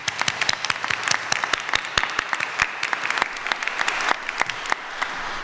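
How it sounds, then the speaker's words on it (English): An audience at an honors convocation applauds Psi Beta members, producing a steady patter of distinct, closely spaced claps at moderate volume that continues without pause. "Let's give them all a round of applause."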